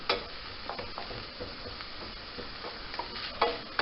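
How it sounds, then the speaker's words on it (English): Onion and garlic sauté in a pan over a high flame, giving a quiet, crackly sizzle with scattered ticks and stirring clicks, steady and close without speech. "And this is going to saute till it's nice and sweated"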